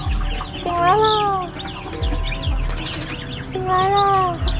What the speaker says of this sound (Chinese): 我可爱的小鸡